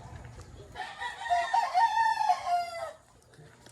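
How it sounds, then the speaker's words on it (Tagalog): A rooster crows once among chickens kept near a house, a loud drawn-out cock-a-doodle-doo over faint background clucking and rustle. "Daghang kay nagbuhi dirig manok."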